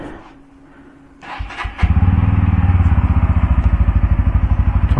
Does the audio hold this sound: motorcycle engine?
yes